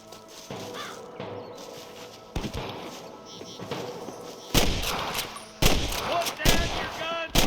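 Shootout gunfire in Red Dead Redemption, with irregular loud bursts of shots and rapid volleys growing denser toward the end, mixed with shouting voices.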